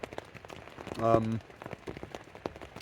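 Heavy rain falls outdoors in a steady dense patter on the ground and nearby gear, close and continuous, while someone talks over it in a brief spoken phrase near the middle.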